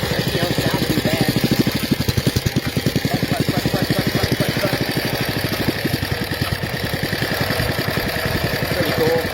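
A custom ghost bike motorcycle engine runs steadily nearby, its rapid, even firing pulses forming a continuous loud putter that holds the whole time with no talk over it.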